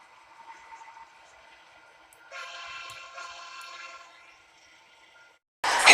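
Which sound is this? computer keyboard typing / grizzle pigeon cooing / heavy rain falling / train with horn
train with horn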